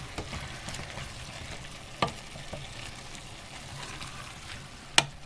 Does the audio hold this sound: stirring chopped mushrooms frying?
yes